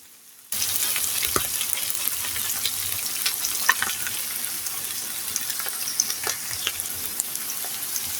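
Potatoes frying in a pan with chicken skin and ginger over low heat give a steady close sizzle that starts abruptly after a brief quiet moment, with scattered crackles and a few utensil clicks, no talking.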